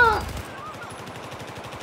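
Rapid automatic gunfire from Battlefield 4's zombie mode rattles in a steady, fast burst that runs loud and close throughout.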